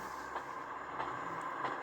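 A train passing in the video game GTA San Andreas, a steady rumbling rail noise with faint clatter that swells slightly, heard alone without talk.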